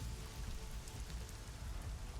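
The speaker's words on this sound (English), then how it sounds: "Rain, consistent and cold, falls from a darkened night sky." Cold rain falls steadily from a dark night sky, a soft, even patter and hiss with no other sounds or voices.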